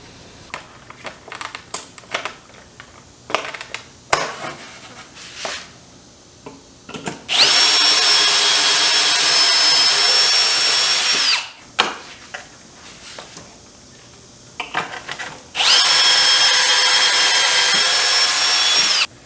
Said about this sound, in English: I'll push this against the top and then drill down into the holes, and it'll lock this in place